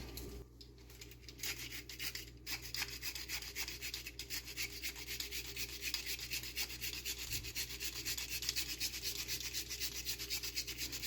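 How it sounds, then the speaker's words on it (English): Almonds are rubbed against a hand grater over a salad, a continuous fine rasping scrape with quick repeated strokes, quiet and close. "I've put it in my grater here, so I'm just gonna add it to the salad"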